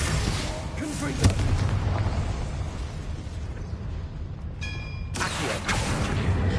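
Spell blasts in Hogwarts Legacy, Bombarda and Confringo, burst out as a loud boom near the start, followed by a dense rumbling wash with a softer swell later; no speech is heard.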